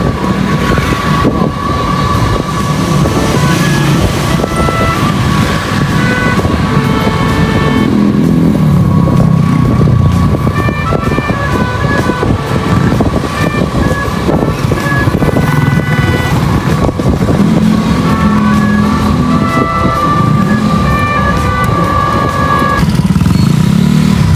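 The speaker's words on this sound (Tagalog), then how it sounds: "ganito po palang umaga, ma-traffic-traffic po dito." Morning road traffic in Angeles City, with cars and motorcycles passing: a loud, continuous engine drone and rumble with rising and falling passes and no talk.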